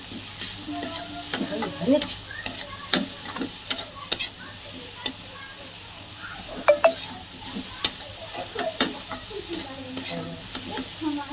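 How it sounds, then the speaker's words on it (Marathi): Dried fish (sukat) chutney frying in a pan, a continuous close sizzle broken by repeated clinks and scrapes of a spoon stirring against the metal over about eleven seconds. "आता आपण चांगली सुकट तळून घेतली"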